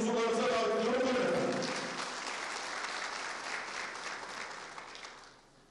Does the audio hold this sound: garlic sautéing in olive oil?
no